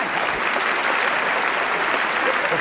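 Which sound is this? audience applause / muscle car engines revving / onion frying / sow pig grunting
audience applause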